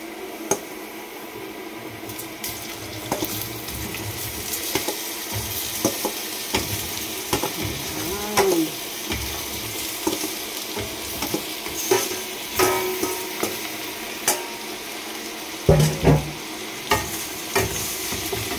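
Onion, garlic and ginger sizzle steadily in a hot pan. A utensil stirs and scrapes now and then, making periodic clinks and knocks over the constant frying hiss. The sound is close, and no one speaks.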